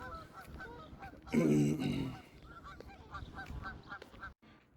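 Geese honk loudly by a road in front of a Steak and Shake, with one burst of honking standing out over traffic noise and a voice speaking briefly.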